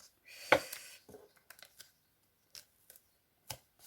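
Scissors cut material for a memorydex box structure, one sharp close snip followed by several lighter scattered cuts and handling noises in a quiet room.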